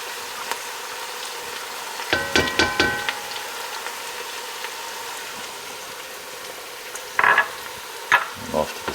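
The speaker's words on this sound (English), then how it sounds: "Just get it stirred in there good." Ingredients stirred into a pot for a smoked Southern Italian pork shoulder, with a soft steady sizzling hiss and a few clustered scraping, clinking stirs, close and fairly quiet.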